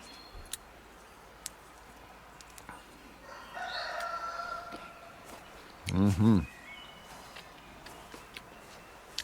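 A rooster crows once at a distance from a barn, a loud burst standing out over faint outdoor ambience and scattered small ticks.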